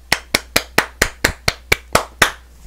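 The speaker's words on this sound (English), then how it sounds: "you just gotta give him a golf clap" A slow, steady run of about nine single hand claps, evenly spaced and fairly close, with no talking.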